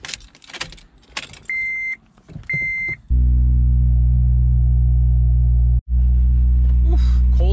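A Honda Civic Si cold start: jangling keys and short beeps, then the engine catches into a loud, steady low rumble that briefly cuts out and returns, close to the microphone.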